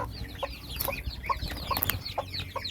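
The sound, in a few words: baby chicks peeping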